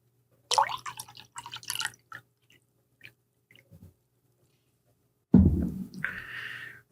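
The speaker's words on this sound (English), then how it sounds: "That water made a really cute sound. It sounded like a video game water sound from like PlayStation, like you're drinking a potion or something." Someone takes sips of water close to the microphone, giving crisp wet gulps and drips in short bursts, then a final swallow with a bright, bubbly tone.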